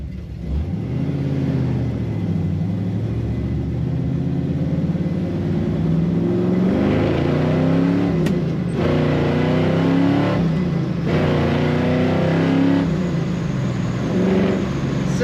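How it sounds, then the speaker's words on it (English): A 1968 Chevrolet Camaro SS with a 396 V8 and four-speed manual gearbox rumbles deep and loud while driving, revving up through several gear changes with brief breaks between pulls. "Today we're driving a very nice 1968 Chevrolet Camaro with a 4 on the floor, manual transmission, and a 396."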